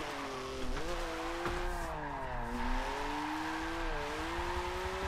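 Engine of a car drifting in the racing game Forza 7, a loud sustained rising and falling whine with tire squeal through the whole stretch.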